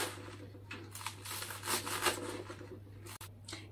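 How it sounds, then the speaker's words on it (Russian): A knife finely chops aging green onion and dill on a wooden board while making pirozhki filling, giving a steady run of close, quick scraping and cutting strokes with a few sharper knocks. "нарезаем укроп с луком как можно мельче"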